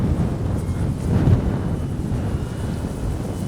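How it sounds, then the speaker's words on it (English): Strong wind gusting across an RC flying field buffets the microphone in a loud, continuous low rumble that swells briefly partway through, with no voices. "It's way too windy."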